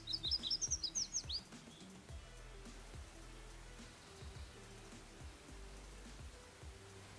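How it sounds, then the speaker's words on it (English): A red-faced warbler sings in the Gila forest, a quick burst of high chirping notes in the first second and a half, then quiet outdoor background. "I'm looking for red-faced warblers. Oh, I just heard one."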